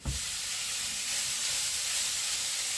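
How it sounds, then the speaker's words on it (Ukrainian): Steady, loud hissing sizzle of chopped pork fat frying in a pan, continuous and close. "і відразу викладаємо на сковорідку."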